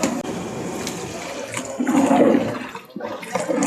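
Water pours and gushes into a cooking pot of thick Kathiawadi kadhi, a loud rushing splash for about a second that then tapers off, with some light clatter around it.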